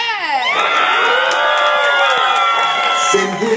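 A concert crowd cheers, screams and shouts for a performer taking the stage, a loud continuous roar with whoops throughout.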